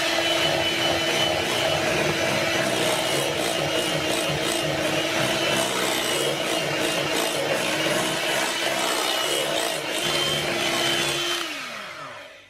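Electric mixer beaters whisking raspberries into cream cheese, a loud, continuous close whir with a steady motor tone that winds down and stops near the end, with no talk.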